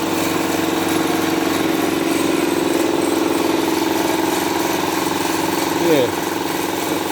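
A Puma air compressor engine runs at a steady idle, a close, even mechanical drone throughout, with a brief word spoken over it.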